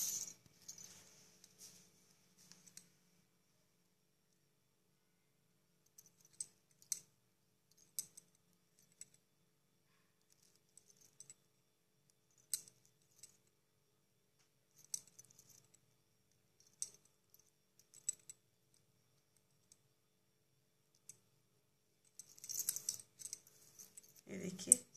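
Small rainbow beads for a beaded toran rattle and clink in scattered bursts, close and light, with pauses between and a louder flurry of clicking near the end.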